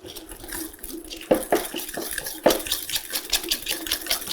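Pastry cream being mixed gives soft wet stirring and sloshing sounds with a few louder scraping strokes, close and fairly quiet, with no speech.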